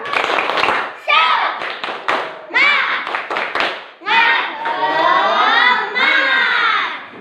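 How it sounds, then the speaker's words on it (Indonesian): A school class performing the tepuk semangat, a rhythmic spirit clap, in a classroom; sharp bursts of clapping from many children alternate with their shouted chanting, loud and close, with pauses between phrases. "Tepuk semangat."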